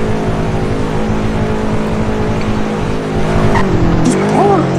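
A Porsche in a Roblox game, its engine droning steadily before tires squeal and skid in wavering pitches near the end, with a player talking over it.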